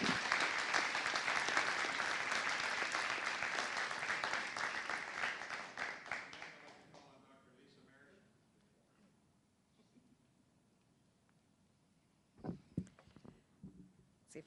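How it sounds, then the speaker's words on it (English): An audience at a board of education meeting gives a sustained round of applause that fades out after several seconds, followed by quiet and a few scattered knocks. "Please give them all one more round of applause."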